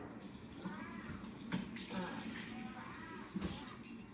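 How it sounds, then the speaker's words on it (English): A thin stream of water runs steadily into a measuring cup for a few seconds, with soft clinks and handling noises, close by. "And then I do 2/3 of a cup of water."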